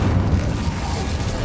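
A spell blast from the Incendio fire charm in the Hogwarts Legacy video game, a steady low booming roar that holds loud for the whole moment with no talk.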